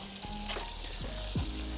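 Crushed garlic cloves and thyme sprigs sizzling in nutty browned butter in a pan, a close, dense frying crackle with a few brief pops and bubbling spurts.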